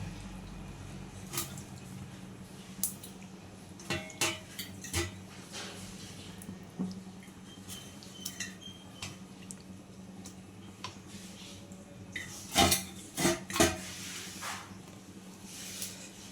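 Fish pieces are added one by one to kavalai fish curry simmering in a pan. Quiet, close, irregular soft plops, squishes and light pan taps sound, with no talk.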